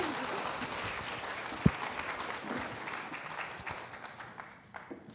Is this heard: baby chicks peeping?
no